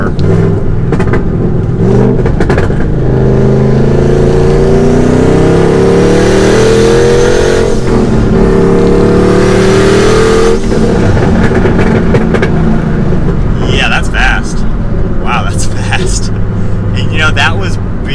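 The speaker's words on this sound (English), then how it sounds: "that was a pretty good acceleration actually using some power in this car" A Ford Mustang GT with a V8 revs and accelerates hard, its engine note climbing through the gears in long rising sweeps before easing off, loud and close from inside the cabin with someone talking over it.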